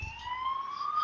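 A police car siren wails as the car passes nearby, one rising tone held clearly over faint background noise, with no talk.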